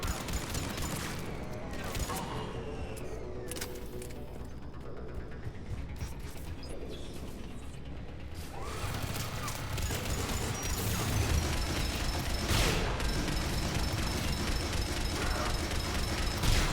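Gunfire in the video game Mass Effect 3, with rapid bursts of shots, crashes and impacts layered over constant battle noise throughout, growing louder toward the end, while a player talks.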